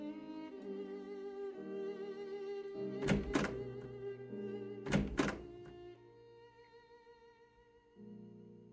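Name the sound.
door opening sound in Sherlock Holmes: The Awakened video game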